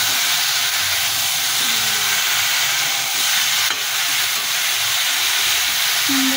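Taro and eggplant curry with chopped tomatoes sizzles steadily in a pan as it is sautéed, a continuous close frying hiss with no talk.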